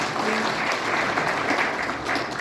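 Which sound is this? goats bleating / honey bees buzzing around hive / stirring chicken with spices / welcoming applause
welcoming applause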